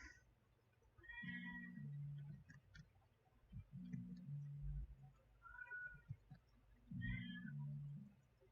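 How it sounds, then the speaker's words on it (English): A cat yowls loudly in drawn-out, wavering cries, three long calls spaced a few seconds apart, with faint music and small clicks in the background. "and the cat is screaming."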